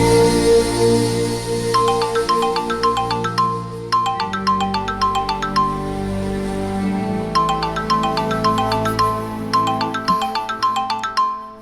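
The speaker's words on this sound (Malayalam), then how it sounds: "ഫോൺ അടിക്കുന്നു." A phone ringtone loudly plays a repeating electronic melody in clustered bursts of bright tones, cycling steadily for about twelve seconds with no voices over it.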